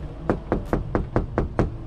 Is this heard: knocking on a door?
yes